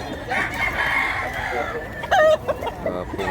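Rooster crowing at a chicken sale, a single drawn-out crow heard fairly close, followed by a brief sharper call, over a steady murmur of background voices.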